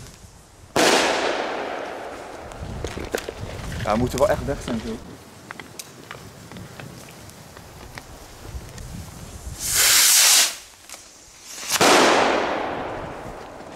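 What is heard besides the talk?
Belgian fireworks being set off outdoors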